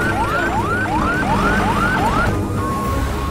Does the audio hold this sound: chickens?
no